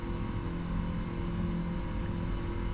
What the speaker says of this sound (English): the engine sounds have definitely improved